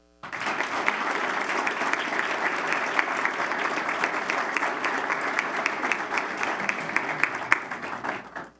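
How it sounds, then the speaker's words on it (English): A school board meeting audience gives sustained applause for an award recipient, dense steady clapping filling the room for several seconds. "please give a big round of applause to our President's Award recipient, Eastwood High School student, Jareth Libby."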